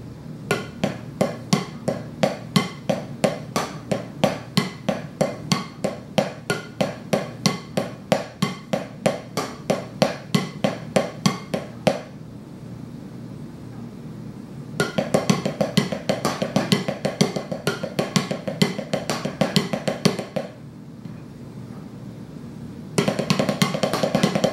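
Multi-drum triplet drill played on a drum kit: rapid, evenly spaced strokes move in a steady three-note pattern around the drums, loud and close, in several long bursts separated by brief pauses.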